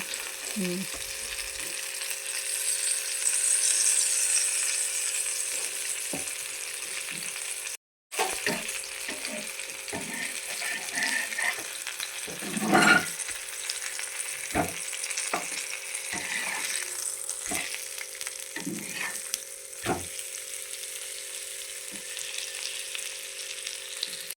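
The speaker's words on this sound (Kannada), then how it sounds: "ಮತ್ತು ಇಲ್ಲಿ ದೊಡ್ಡ ಮೀನು ಹಾಗೆ ಇಡೀ ಫ್ರೈ ಮಾಡ್ತಾ ಇದ್ದೇನೆ." Whole mackerel frying in a pan gives a continuous oily sizzle, with occasional utensil knocks and scrapes and a brief louder spatter partway through.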